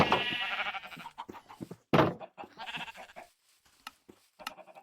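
A blocky cow in Minecraft moos in short, nasal calls, one clear call near the start and another midway, close up and separated by soft clicks and thumps.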